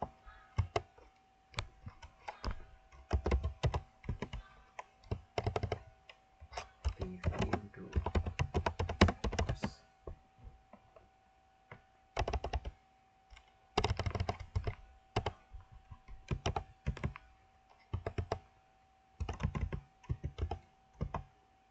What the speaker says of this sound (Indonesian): kita ketikkan saja nama projectnya